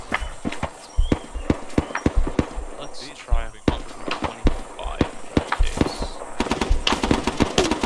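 Rapid gunfire rattles through a squad firefight in the Vietnam-era Arma mod SOG Prairie Fire, with sharp bursts and scattered single shots near and far, under voices talking over radio.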